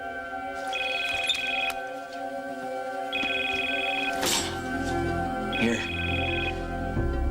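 A telephone rings in three evenly spaced bursts, each about a second long, over a steady background of music and room noise, with a thud partway through and a brief spoken word.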